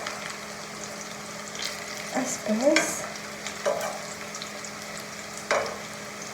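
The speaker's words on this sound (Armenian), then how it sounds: "մարմանդ կրակի վրա ենք եփում այս կոտլետը, որ չայրվի" A cutlet fries in oil in a pan over low heat, giving a steady soft sizzle with a few scraping stirs of a utensil. One brief word is spoken over it.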